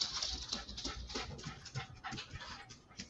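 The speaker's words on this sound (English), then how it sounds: "I hear a doggy." A dog pants quickly and excitedly close by, rapid rhythmic breathy huffs running continuously with faint whimpering and no speech.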